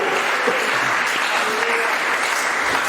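A church congregation claps together in dense, steady applause that fills the room for a few seconds, loud and close.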